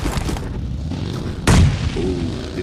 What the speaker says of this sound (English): The grenades continue to bombard Jesse.